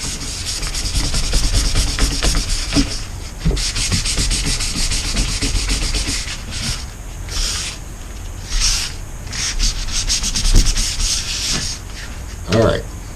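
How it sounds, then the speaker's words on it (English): Continuous close sanding on a cured epoxy resin coat, harsh scratchy rubbing with shifting strokes and occasional louder bursts, running steadily throughout with no talk. "you just do your sanding until you're satisfied with it"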